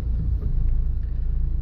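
A UAZ Patriot SUV driving through city streets, its engine and road rumble a steady, loud low drone heard from inside the cabin with no talking.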